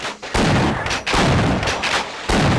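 Gunfire in the PS2 game Half-Life: Decay, loud rapid bursts of shots in several volleys separated by brief gaps.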